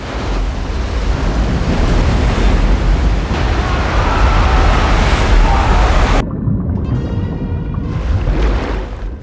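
Floodwaters surge in a loud, continuous roar of rushing water, with a broadband wash and wind-like noise throughout that thins briefly near the end before swelling again.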